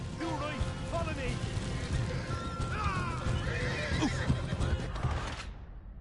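Horses in the Red Dead Redemption 2 video game whinny and neigh over steady clip-clopping hooves, continuous and close throughout, with voices talking underneath.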